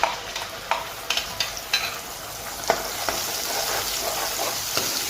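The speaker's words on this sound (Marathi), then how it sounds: "लालसर होईपर्यंत याला फ्राय करून घेऊ" Onion and garlic paste fries in hot oil for a veg kolhapuri curry, giving a steady, close sizzle with brisk scraping stirs and spoon taps throughout.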